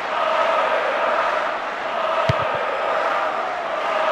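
A steady, broad roar of a stadium crowd in Pro Evolution Soccer 6, France versus Czech, sustained and even throughout with one brief thump near the middle.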